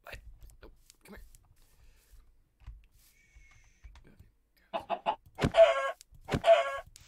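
A chicken clucks in a video game: quiet rustling at first, then a close run of short clucks and two louder squawking clucks near the end.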